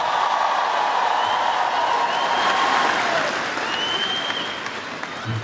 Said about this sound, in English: Give them another warm round of applause.